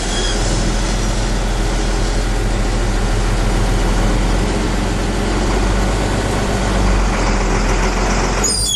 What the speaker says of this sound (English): We're now going to pull forward, test the parking brake to make sure that it will hold.